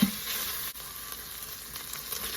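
Mutton pieces sizzle as they fry in an Instant Pot, a continuous close hiss with a small clatter at the start.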